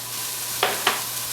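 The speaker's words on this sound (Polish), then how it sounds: "wrzucamy pokrojonego selera" Chopped celery tossed into a hot sizzling pan for a vegetarian Thanksgiving dish, two short bright bursts of sizzle and clatter a moment apart over a steady low frying hiss, close and clear.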